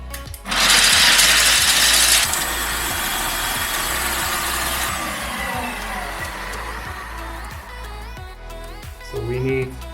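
A strong blender grinds walnuts and almonds into powder with a loud, harsh whirring burst at the start, then a steady mechanical drone with rhythmic ticking that continues to the end.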